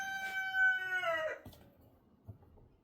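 A rooster named Stan crows once, a loud drawn-out call that rises and then trails off, followed by quieter farmyard sounds.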